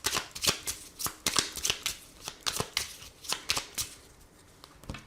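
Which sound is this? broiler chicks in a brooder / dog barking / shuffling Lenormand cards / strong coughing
shuffling Lenormand cards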